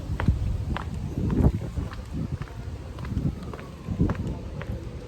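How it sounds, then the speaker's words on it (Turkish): Strong wind roars and buffets the microphone in a steady low rumble on Istanbul streets, with footsteps crunching along underneath. "Yalnız çok kötü rüzgar var."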